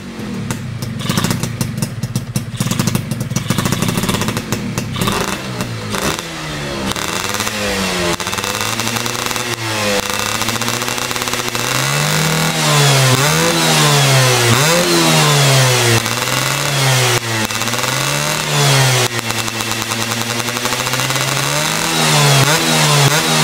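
A Yamaha F1ZR two-stroke motorcycle engine with tuned clutch and ignition, revved repeatedly in rising and falling waves from a steady idle, loud and close, with no talk.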